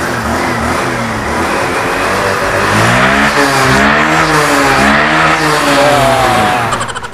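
A motorcycle engine revs loudly and continuously nearby, its pitch rising and falling in steady throttle blips.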